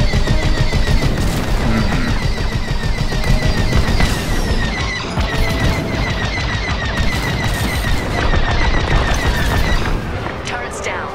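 Starfighter laser cannons blast in rapid bursts during a space dogfight in Star Wars: Squadrons, a loud dense barrage of repeated zaps and explosions over engine roar, with a voice speaking over it.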